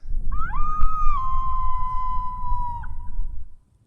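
A single long, high-pitched recorded female coyote howl rises, holds steady, then bends down and trails off, loud and clear over a low rumbling background.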